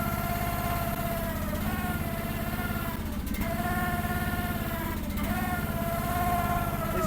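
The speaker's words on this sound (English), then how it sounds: "Hear that hydraulic pump whirring?" A hydraulic pump on a cold Chinese machine whirs with a steady whine over a running engine, wavering in pitch a few times.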